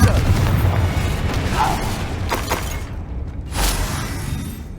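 The Confringo fire spell explodes in the video game Hogwarts Legacy with a loud, booming blast and rumbling crackle, followed by a brief second whooshing burst, close and dense.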